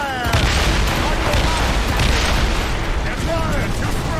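Cannon fire from a sailing warship in Assassin's Creed Rogue, a dense run of booming blasts and rumbling explosions over a continuous loud roar, with shouted commands from the crew mixed in.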